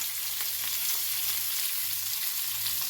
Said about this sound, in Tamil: நான் இதுக்கு கருவேப்பிலை இப்படி தூவி விடுறேன்